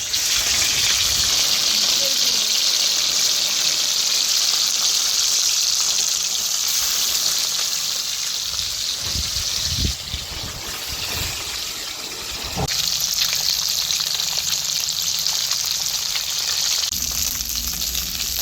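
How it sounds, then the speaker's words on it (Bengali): Steady loud sizzling of fish frying in hot oil, with a brief quieter pause and some clatter midway before the hiss resumes. "মাছ ভাজার জন্য দিয়ে দিচ্ছি তেল পরিমাণ মতো। আমি একে একে মাছগুলো দিয়ে দিচ্ছি।"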